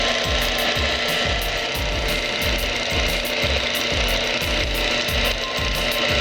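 A lubricity test machine runs Mobil SHC 634 synthetic gear oil mixed with dirt, giving a loud, continuous mechanical grind with a fast, regular ratcheting click repeating throughout, close up and with no voices.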